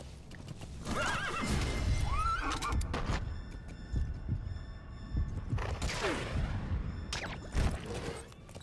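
A horse in a video game whinnies repeatedly over steady clip-clopping hooves, with a second shrill neigh later on; the sounds are close and fairly loud, with no talking.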